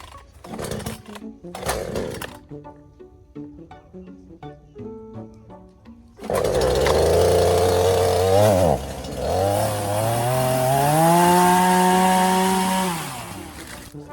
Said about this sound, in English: So hopefully the chainsaw fires right up for me.